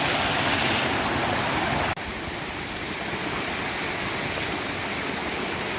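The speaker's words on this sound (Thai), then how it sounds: "น้ำไหลเป็นธรรมชาติ" Clear stream water rushes over a forest waterfall in a loud, constant roar, steady throughout with a slight drop in level partway.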